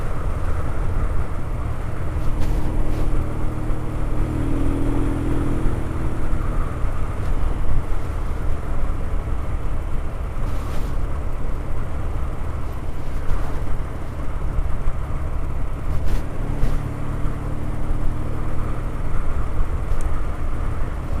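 A BSA 650 A10 motorcycle cruising on country roads in the Cotswolds, its engine giving a steady, dense drone throughout with wind rush over the microphone and no talking.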